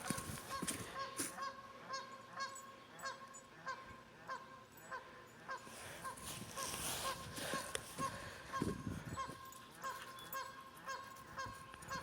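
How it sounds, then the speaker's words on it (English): Geese at Harman Springs honk repeatedly in a loose, irregular chorus of nasal calls, faint and somewhat distant over quiet outdoor background, with no talking. "Can you see the geese?"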